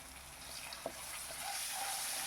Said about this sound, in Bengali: আমি আলুগুলোকে ভালো করে ভেজে নিচ্ছি